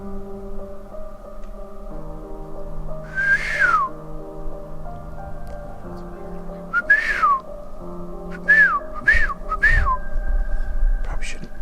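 Several rising and falling whistles ring out over a steady droning background, one around the third second and a cluster later on, in a cave-like spot called Devil's Hole; a few faint voices are also present.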